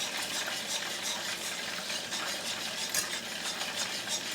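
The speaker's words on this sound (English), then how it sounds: "And you're going to stir it." A spoon stirs buffalo ranch wing sauce with sugar and paprika in a pot over low heat, giving soft, rhythmic scraping and gentle liquid swishes, close and quiet, with no talking.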